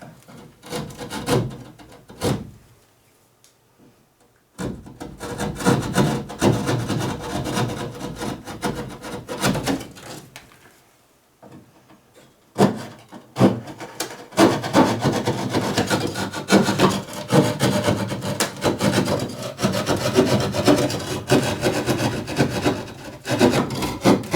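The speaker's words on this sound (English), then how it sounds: "Taking care not to push in too far with your saw because you don't want to harm the wood beams or the other side of drywall." A hand saw cuts horizontally through drywall with wood beams behind it, making close, loud back-and-forth rasping strokes in rhythmic bursts, broken by two brief pauses.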